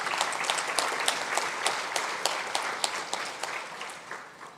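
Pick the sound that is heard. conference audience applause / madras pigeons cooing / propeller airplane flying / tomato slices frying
conference audience applause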